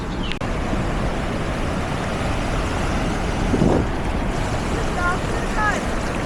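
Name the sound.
sea waves and wind on the Konkan coast, Dapoli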